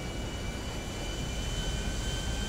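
A gold private jet in Grand Theft Auto V flying over Dubai gives off a steady, loud engine roar and high whine, continuous and unbroken throughout.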